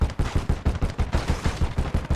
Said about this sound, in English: A 2 cm flank gun starts firing at my tank here.